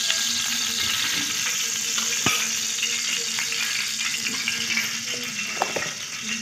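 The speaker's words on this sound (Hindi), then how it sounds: "ताकि ये सब तवा जो है इस पर लग जाए घी। तो फिर इसमें डालेंगे अंडा।" Egg frying in ghee on a hot tava gives a loud, continuous close sizzle with a few scattered ticks and spatters, no talking over it.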